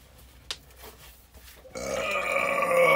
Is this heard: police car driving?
no